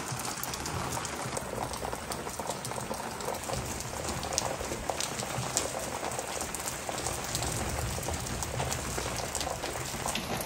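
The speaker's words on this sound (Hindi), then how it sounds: "यहाँ तो बारिश हो रही है बहुत अच्छी खासी" Steady rain patters densely on surfaces nearby in Bihar, a constant hiss of drops with no pauses.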